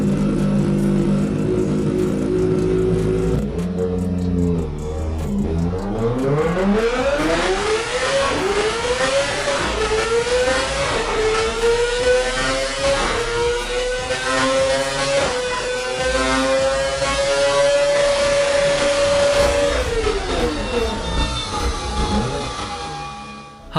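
A Kawasaki ZX-25R motorcycle engine revs hard toward its very high RPM limit, a loud, continuous rising whine that climbs steadily, holds near the top, then drops away, with no talk over it.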